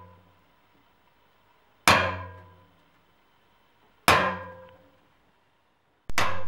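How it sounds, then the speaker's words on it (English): Three sharp metallic clangs spaced about two seconds apart, a hammer striking a centre punch into a metal pipe, each ringing briefly before fading, close by with quiet between strikes. "using a centre punch, punch every hole that you marked every 2cm"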